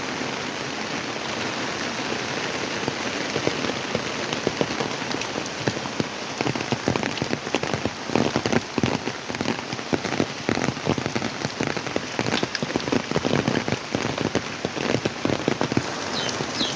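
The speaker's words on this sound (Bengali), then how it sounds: "বাহিরে প্রচুর বৃষ্টি।" Heavy rain pours down outside in a dense, steady patter with scattered sharper drops hitting nearby surfaces, continuing unbroken with no talking.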